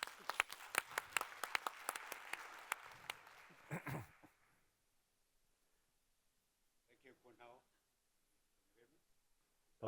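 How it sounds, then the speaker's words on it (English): Audience applause welcoming a speaker to a fireside chat at a Gateway to ASEAN event, brisk clapping for about four seconds that fades out, followed by near silence and then brief talk. "can we please have a big round of applause again to welcome Fred"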